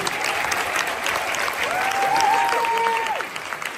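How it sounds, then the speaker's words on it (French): Audience applauding content creators at a French awards ceremony, a steady, dense wash of clapping that swells slightly midway, with a faint sustained tone running underneath. "vous pouvez vous applaudir"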